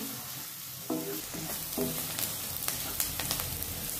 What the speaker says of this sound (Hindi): इस तरह से प्याज को अच्छे से भूनना है